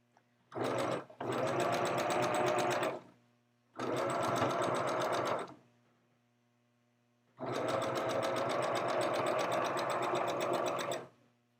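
Sewing machine stitching a fabric seam for clothing, running in three steady bursts of rapid mechanical chatter separated by short pauses, close and clear with no talk.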